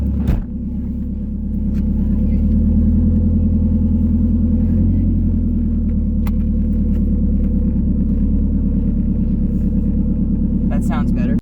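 Toyota MR2 engine rumbling steadily on the road, a low, continuous drone heard from inside the car, with a few faint clicks and rattles and brief voices at the start and end.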